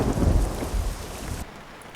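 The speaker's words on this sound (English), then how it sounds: "for some reason it's raining" Steady rain and low rumbling thunder in a truck-driving video game, with a Mercedes truck on the road; a loud broadband wash that drops abruptly near the end, with no talking.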